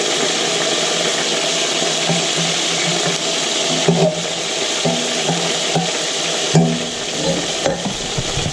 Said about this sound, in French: je vais mettre mes petits dos de cabillaud qui sont très très frais dans cette huile et je vais les faire griller